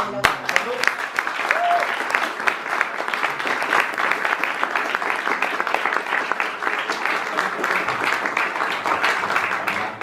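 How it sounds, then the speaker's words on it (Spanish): An audience applauds at a book launch for a new book, sustained dense clapping over ten seconds with some voices and crowd murmur mixed in beneath the hands. "Un aplauso."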